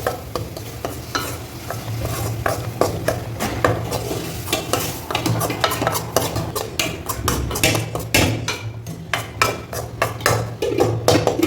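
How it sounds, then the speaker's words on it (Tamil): Besan being stirred and sautéed in ghee in a pan, with continuous frying sizzle and frequent scraping strokes of a spoon against the pan, close and steady throughout. "நெய்யில் போட்டு நல்லா வதக்கணும்."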